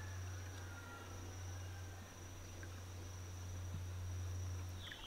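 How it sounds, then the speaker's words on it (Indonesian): Crickets chirping at the Tukad Sana bathing place in Karangasem, a faint continuous high trill held steady throughout over a low hum, with no talking. "Ditemani suara jangkrik."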